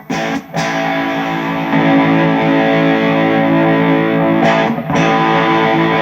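A loud, sustained overdriven electric guitar chord ringing through a cranked amp with an Universal Audio Ox power soak, briefly cut twice and struck again.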